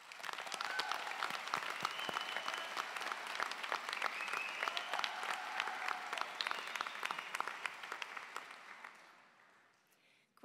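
Sustained audience applause at a physician assistant program graduation ceremony, a dense steady wash of many hands clapping with faint voices mixed in, holding for about nine seconds before thinning and fading out at the end.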